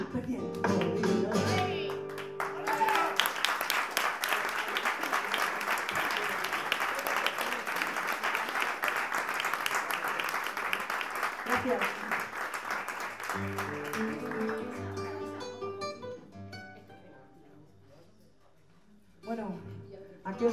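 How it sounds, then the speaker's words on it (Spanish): An audience at a flamenco performance bursts into sustained applause after a song, rising quickly and holding steady for over ten seconds before tapering off, with faint music and a speaking voice around it. "Un aplauso para ellos otra vez."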